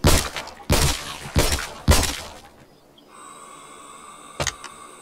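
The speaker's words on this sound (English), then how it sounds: "I'm hitting bloody glass" Glass being struck and shattering in the VR game Arizona Sunshine: four sharp, loud crashes of breaking glass in quick succession, then quieter tinkling debris and a couple of small clinks, with no speech.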